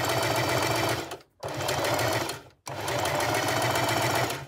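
A sewing machine stitches a small purse in steady close bursts, stopping twice briefly as the fabric is turned before running on.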